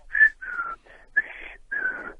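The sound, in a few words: whistled imitation of a signal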